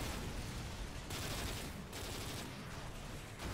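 Sustained gunfire in the video game Modern Warfare 3, a dense, continuous rattle of automatic fire with short bursts and brief dips, loud and close, with no talk over it.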